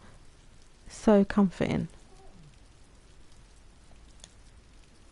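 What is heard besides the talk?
heavy rain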